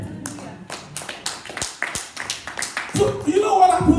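Congregation clapping hands together during a church worship service, a series of sharp claps in a loose rhythm that grows denser and louder toward the end, with voices mixed in.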